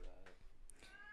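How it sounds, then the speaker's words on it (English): A cat meows in short, high, wavering calls heard faintly in the background, while people talk over it. "The cat. Going crazy."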